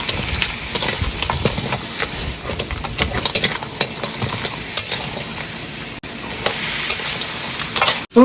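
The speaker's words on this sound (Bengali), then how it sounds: "তেল ছেড়ে দিয়েছে আর কাঁকড়াগুলো দিয়ে দেবো" Crabs frying in hot oil and being stirred, with steady close sizzling and repeated scraping clicks of a utensil against the pan throughout.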